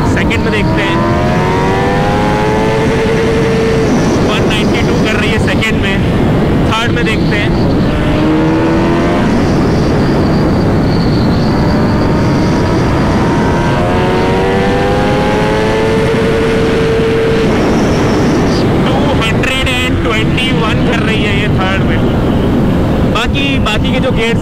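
Kawasaki ZX-10R motorcycle engine screaming at full throttle in first gear, loud and close, with rising revs that climb, cut at the limiter and climb again across the run, a voice briefly heard over it.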